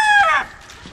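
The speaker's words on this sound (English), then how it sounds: "I guess the chickens are impatient this morning." A loud, close rooster crow, a single harmonic call that rises and trails off within a second.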